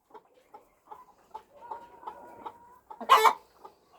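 An Australorp chicken clucking in a farmyard among ducks, turkeys and geese: soft, spaced clucks and a drawn-out tone, then one loud squawk near the end, close by and with no talk.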